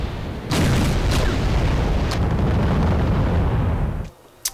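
Artillery and MLRS rocket barrages in a war strategy game, a sustained loud roar of overlapping booms and blasts that ends abruptly, followed by one short pop.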